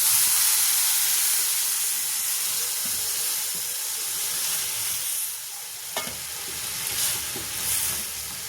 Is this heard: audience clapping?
no